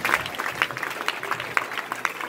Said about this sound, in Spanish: Alguien puede aplaudir a Dios en esta noche.